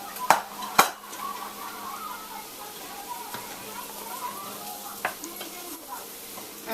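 Vegetarian chili with cayenne pepper sizzles gently in a pot while a utensil clanks sharply against the side a few times during stirring, with a person talking over the cooking sounds.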